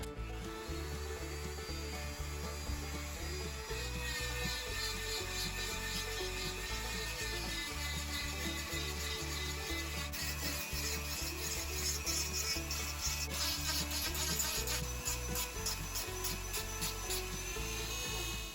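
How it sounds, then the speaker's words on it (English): A Dremel rotary tool grinds down a lure carved from a palm frond, a loud, steady whine with a rasping buzz that runs without a break from start to finish. "I'm gonna go ahead and dremel some of this down."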